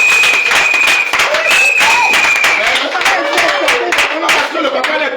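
A church congregation at a Sunday service breaks into loud, sustained applause, dense clapping with cheers and voices mixed in throughout, close and energetic.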